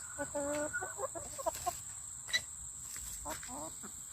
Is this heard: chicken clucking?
yes